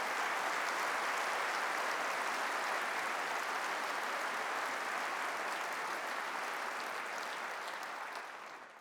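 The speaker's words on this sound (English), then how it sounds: "Give them a cheer." Conservative Party Conference 2016 audience applauding and cheering in a large hall, a dense, steady wash of clapping that holds for about eight seconds before tapering off at the end.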